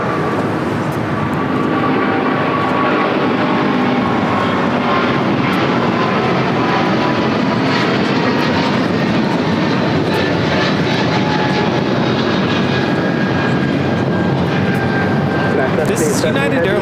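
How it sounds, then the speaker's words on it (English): A United Airlines Boeing 777-200ER takes off from LAX toward Washington Dulles, a loud, sustained engine roar filling the whole stretch while people talk over it. "This is United Airlines 1140 taking off to Washington Dulles on a 777-200ER."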